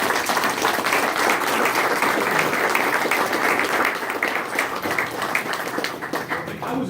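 A crowd at a Trump–Pence campaign event in Warsaw applauds, steady dense clapping that fills the whole stretch and tapers only slightly toward the end.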